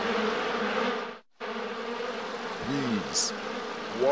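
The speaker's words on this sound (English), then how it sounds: "Bees. Why did it have to be bees?" A cartoon bee swarm buzzes in a thick steady drone, broken by a brief silent gap, with a short warbling pitch swoop and a high chirp layered over the buzzing.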